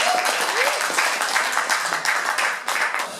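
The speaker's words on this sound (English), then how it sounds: "I think that deserves a round of applause." An audience at a cannabis meetup applauds, a dense steady clapping that fills the room, with a few voices mixed in.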